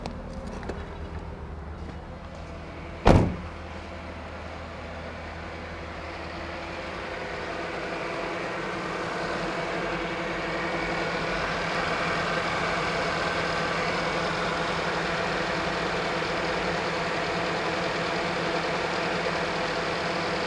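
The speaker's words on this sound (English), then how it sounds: "You can see the compressor pulley running with the idler pulley on the compressor." A car engine idles under the open hood with the AC compressor pulley turning, a steady close mechanical hum and whir after a single sharp click near the start.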